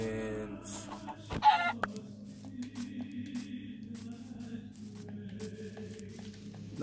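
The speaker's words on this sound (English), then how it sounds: "Chickens." Chickens clucking in Minecraft, a few short game-animal clucks over steady background game ambience, with a louder sharp sound near the start and no talk.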